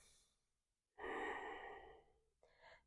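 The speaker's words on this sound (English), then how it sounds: "Take a big breath here" A deep breath taken during a lower-body yoga stretch, a long airy inhale swelling up close after a moment of near silence, then a shorter second breath trailing off.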